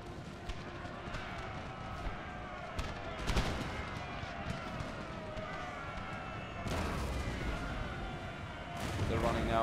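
Napoleon: Total War battle with artillery canister shot and infantry musket volleys, dense bursts of gunfire rising in waves over a continuous battlefield din, with talk over it.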